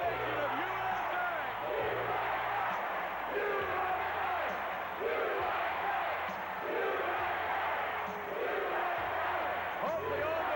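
A wrestling arena crowd keeps up a loud, rhythmic chant in steady waves throughout, with a commentator talking over it.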